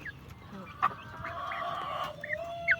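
Rhode Island Red chickens on a farm give a few short clucks and calls over a low steady background hum, moderately close, with faint noise between calls.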